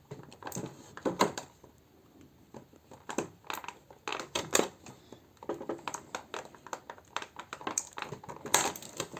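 Scissors snip and crinkle through plastic packaging to free a MacFarlane Toys Colonel Miles Quaritch action figure, giving a close run of sharp, irregular cuts and rustles with short pauses between them.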